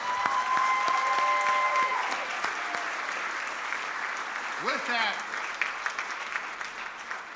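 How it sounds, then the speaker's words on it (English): An audience at a neighborhood business awards ceremony applauds the nominees with sustained, dense clapping that gradually thins, while a voice briefly speaks over the tail of the applause. "Let's give them a round of applause"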